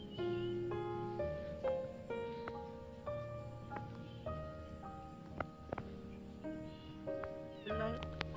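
Repeated high, thin meows from a frightened, abandoned kitten during a rescue, in quick succession, fairly close, over a steady low background hum.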